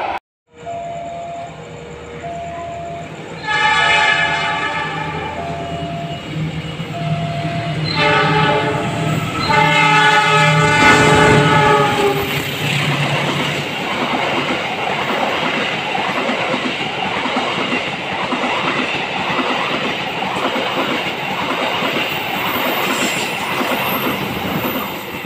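Argo Bromo Anggrek passenger train passing close by, sounding several long blasts of its horn, then a sustained rumble and rhythmic clatter of wheels over rail joints as the carriages roll past loudly.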